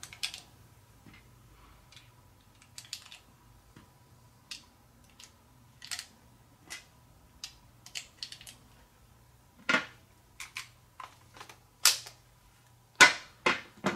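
A pistol magazine being loaded back into the gun: quiet, scattered metallic clicks and snaps at irregular intervals, growing a little sharper and closer toward the end, in an otherwise hushed room.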